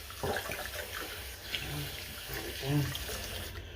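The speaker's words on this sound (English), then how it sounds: "Gotta rinse off my hands a little bit" Hands are rinsed under a running tap at a sink, the steady stream of water splashing softly at close range while someone talks.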